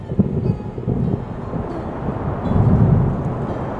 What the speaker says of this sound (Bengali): বাইরে বৃষ্টির সাথে সাথে দিচ্ছে ঝোড়ো হাওয়া